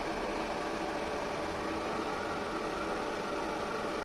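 A power inverter charging a battery at 22 A gives a steady electrical hum and fan-like hiss, continuous at low volume, unchanging until it cuts off at the end.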